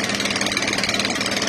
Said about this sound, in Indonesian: Di sini juga motor lewat.